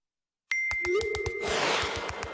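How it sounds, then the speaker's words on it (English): A phone notification chime plays right after a silent gap, a bright ringing ding with a rising tone and quick repeating pulses, loud and alone. "This is the sound of Dan's phone."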